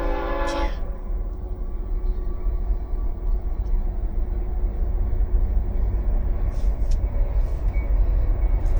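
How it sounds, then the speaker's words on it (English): A heavy train rumbles steadily nearby, a deep continuous low roar with a brief horn-like blast at the start and faint clanks later. "this sounds like a pretty big one. Like a Freightliner."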